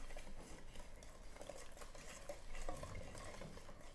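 Pancake mix being stirred together with water in a bowl, a soft steady scraping and swishing with faint clinks of the utensil, quiet and close.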